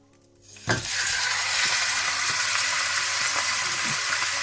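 Meat for bhindi gosht (mutton with okra) hits hot oil in a cooking pot and starts a loud, steady sizzle and crackle that runs close up without a break after a short quiet start.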